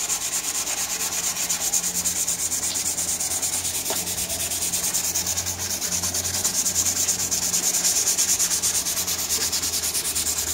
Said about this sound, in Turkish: O zaman zımparaya başlıyoruz.